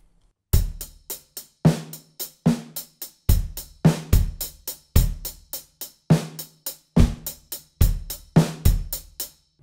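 Drum kit playing a two-bar kick and snare groove, close and clear, with deep kick thumps and bright snare cracks repeating in a steady, slightly syncopated pattern for about nine seconds with no voices.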